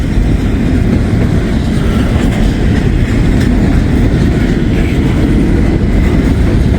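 A freight train rolls past close by on the rails, a loud, steady rumble and roar with faint clickety-clack from the wheels that carries on without break. No one speaks.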